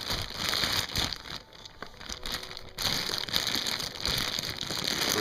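Crinkling and crumpling of packaging material as a poorly packed parcel holding a car manifold is unwrapped, a steady rustle close by with a brief quieter pause midway.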